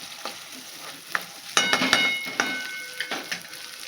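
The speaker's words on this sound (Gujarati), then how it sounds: "બધું સરસ કૂક થવા દેશું 1 મિનિટ માટે, જેથી થોડાક આ બટેટા છે આપણા એ કૂક થઈ જાય" Diced potatoes fry in a pan with black pepper powder for a fasting-day upma, giving a close, light sizzle broken by several sharp scrapes and clinks of a spoon stirring against the metal.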